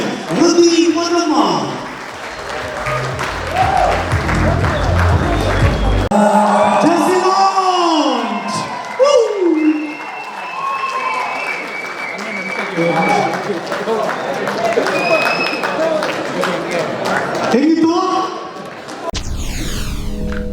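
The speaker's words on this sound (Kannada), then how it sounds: "ಜೋರ್ ಚಪ್ಪಾಳೆ" Loud applause and cheering from a crowd at the inauguration of the Appu Cup, with whoops and shouts, mixed with an announcer's amplified speech and music throughout.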